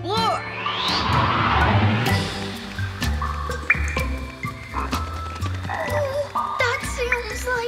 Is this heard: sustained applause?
no